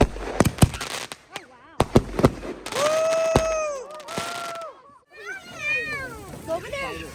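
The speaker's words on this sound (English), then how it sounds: "we're gonna do some fireworks." Outdoor fireworks on a winter New Year's Eve in Alaska: sharp pops and crackles, then whistling rockets with rising and falling pitch, with voices between bursts.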